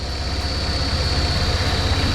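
A Scion FR-S engine fitted with a Rotrex supercharger runs steadily near 2,000 rpm, a close, even low drone with a faint high whine on top.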